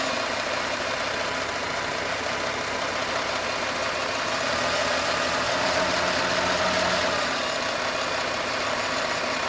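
Rebuilt Toyota 1FZ-FE inline-six engine idling steadily after an overhaul, a constant moderate rumble with a faint knocking texture, no voices.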